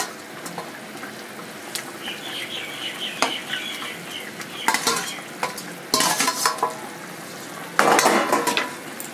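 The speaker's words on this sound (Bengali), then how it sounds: "তো এবারে বাকি মাছগুলো দিয়ে দিচ্ছি।" Large silver carp pieces drop into a hot frying pan, setting off loud bursts of sizzling, with stirring and clinks of a utensil against the metal over a steady frying hiss.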